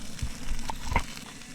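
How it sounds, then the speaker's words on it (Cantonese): Beef steak fries in a pan at a campsite, giving a soft, continuous sizzle with a couple of faint clinks and knocks, fairly near and moderately quiet. "我哋煎牛扒先啊！"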